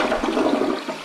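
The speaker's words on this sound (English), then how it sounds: "we're gonna flush it and see what happens" A newly installed Kohler toilet flushes with a loud, close rush of swirling water that carries through the whole brief moment.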